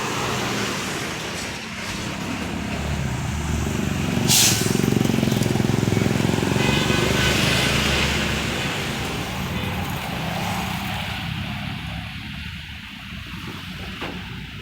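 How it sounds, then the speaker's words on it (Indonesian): Intercity bus rumbling past on a busy road in Bogeg, with engine noise swelling and fading, a hiss of air brakes, and continuous traffic in the background. "Kita lihat bis akap."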